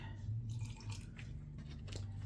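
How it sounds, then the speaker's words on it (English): Water trickles and drips faintly into a thick sourdough mixture in a kitchen, with soft wet squishing over a steady low hum and no speech. "I'm gonna put a little more water in there because it's a little thick"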